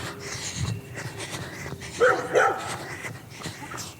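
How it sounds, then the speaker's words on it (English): A dog barks at a passing runner outdoors, with a couple of sharp, close barks and yips in quick succession around the middle, set against steady outdoor background noise. "there's another dog barking at me"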